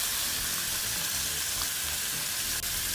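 Pupunha spaghetti and sun-dried tomatoes in olive oil in a wide frying pan, giving a steady, close, continuous sizzle with no talking.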